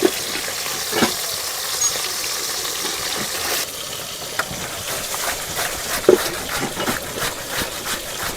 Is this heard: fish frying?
yes